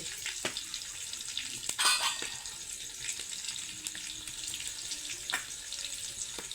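Garlic, green chillies and mustard seeds fry in hot oil in a tempering pan, giving a constant close crackle and sizzle with scattered sharp pops and a stirring clatter, and no one talks.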